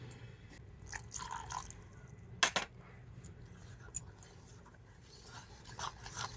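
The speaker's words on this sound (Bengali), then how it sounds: "তো আবারও ভালো করে ফেটিয়ে নেব।" Semolina and yogurt batter gets whisked in a bowl, soft scraping and rubbing with a few sharper clinks against the bowl, faint and close, in quiet kitchen surroundings.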